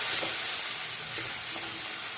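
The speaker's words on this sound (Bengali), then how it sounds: "এবার আমি টমেটোটা গ্রেট করে রেখেছিলাম সেটা দিয়ে দিলাম।" Grated tomato hits hot spices in a pan for pabda fish curry, giving a loud, steady sizzle and hiss from close by with no talking.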